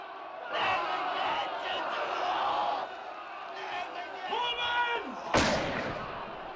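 A film scene aboard a ship, with a loud gunshot cracking out near the end amid shouting voices and commotion.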